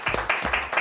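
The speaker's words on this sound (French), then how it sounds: "On vous applaudit" A brief burst of applause for guests at the close of a show, a few pairs of hands clapping in quick bursts, close and moderately loud, lasting under a second.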